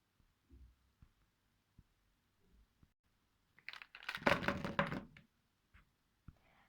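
Faber-Castell Textliner pastel highlighters, felt tips dragged across paper: a close, scratchy burst of strokes lasting about a second and a half, with a few soft taps before and after and no talk.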